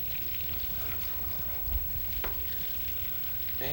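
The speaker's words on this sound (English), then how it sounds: "so we're deep frying butter?" A peeled banana deep frying in butter gives a steady, even sizzle and crackle throughout, close and fairly quiet.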